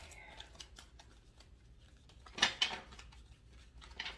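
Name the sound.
shuffling tarot cards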